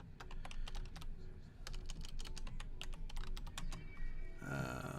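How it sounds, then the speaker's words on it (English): Rapid, close clatter of fingers typing on a computer keyboard, bursts of sharp keystrokes with short pauses, ending on a brief different rustle. "I'm typing."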